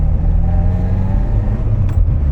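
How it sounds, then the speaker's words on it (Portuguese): A Ford Pampa pickup with a 1.8 AP engine revs steadily and close by, a loud sustained low rumble with a whirring drone and a brief rise in pitch near the end, without any talking. "Vamos dar uma aceleradinha na pampa."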